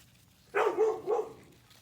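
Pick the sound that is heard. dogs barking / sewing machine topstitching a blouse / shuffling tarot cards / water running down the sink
dogs barking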